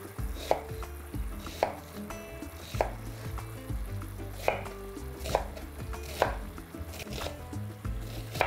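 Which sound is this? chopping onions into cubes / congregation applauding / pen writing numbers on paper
chopping onions into cubes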